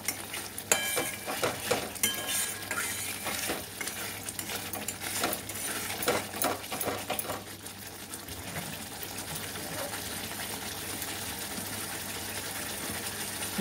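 Masala for a green jackfruit kofta curry being stirred and fried in a pan, with steady sizzling and scraping strokes throughout, busier in the first half and settling to a continuous fry later, no talking.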